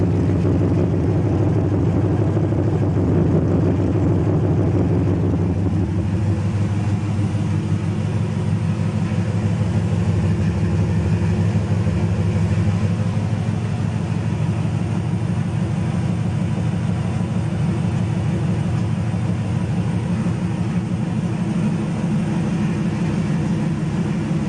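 The open-header 454 big block in a 1974 Chevy Nova idles steadily. Its deep, continuous low rumble stays loud and close, with no revs and no talking.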